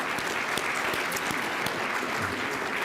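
Steady, continuous applause fills a conference hall after a closing keynote, dense and even, with a few sharper individual claps standing out.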